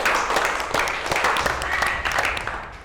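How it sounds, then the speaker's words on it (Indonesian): A classroom of children applauding together after a lesson game, a dense continuous patter of many hands clapping loudly for a few seconds, with some voices mixed in before it slowly tapers. "boleh tepuk tangan buat kita semua."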